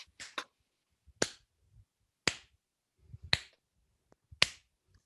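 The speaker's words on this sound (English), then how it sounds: "we're going to start off by clapping our hands." During a children's pow wow dance lesson, sharp single hand claps ring out one at a time at uneven intervals, fairly quiet and close, with silence between them.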